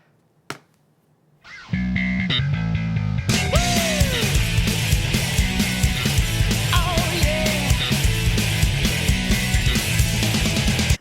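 A short snap and a brief rising lead-in, then a driving, fast punk rock band crashes in with distorted guitars and busy drums, loud and energetic; music from Sonic Adventure 2.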